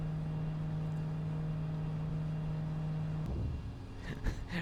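Boeing 777 jet engines in the X-Plane 11 flight simulator give a steady, loud low roar with a constant tonal hum, which breaks up into rougher rumbling and a few brief higher bursts near the end.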